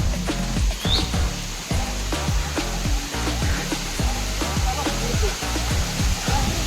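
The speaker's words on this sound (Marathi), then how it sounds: "आपण आता आलो फायनली धबधब्यावर" A waterfall near Munawale village gives a steady broadband rush that fills the whole scene, with rhythmic tapping and faint chirps layered over the constant roar.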